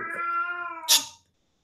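A single cat meows with a long, tonal, steady call that ends in a brief sharper burst, close and clear, followed by silence.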